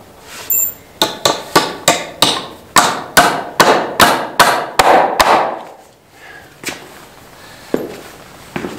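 Nails driven into wooden wall framing with a hammer, about a dozen sharp, evenly spaced strikes, loud and close, then a quieter pause and a couple of scattered knocks.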